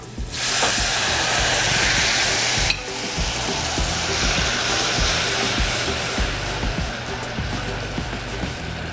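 Bourbon poured into a hot pan of browned onions and garlic erupts in a loud, close hiss and sizzle that runs continuously with stirring scrapes, easing slightly after a sharp burst partway through.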